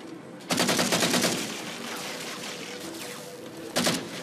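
A turret machine gun fires in Halo 4 in rapid, rattling bursts, a long volley and then a short one, loud and close, with shooter-game battle noise between the bursts.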